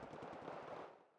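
Rapid burst of mortar fire from the video game Wargame, a loud crackling volley of shots that fades out quickly at the end.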